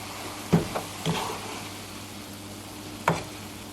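Cabbage slaw, chicken and cooked egg tossed together in a hot pan for keto eggroll in a bowl: a steady soft sizzle broken by three or four distinct scraping stirs of a utensil against the pan.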